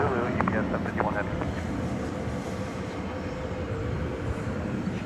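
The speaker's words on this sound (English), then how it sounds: "Meanwhile, that A300 is still taxiing." An Airbus A300 airliner taxis at DFW Airport, a steady, distant jet rumble that continues under faint voices.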